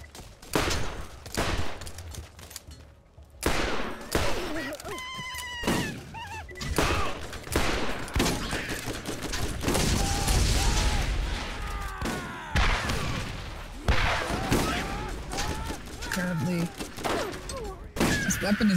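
Weapon fire in the video game Borderlands arrives in rapid bursts of loud, close shots with crackling impacts. Intermittent voices and game effects come between and over the bursts.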